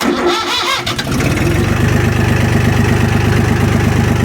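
A Jinma 284 tractor engine cranks briefly, then catches and settles into a loud, steady, close-up idle with an even chugging rhythm that holds to the end.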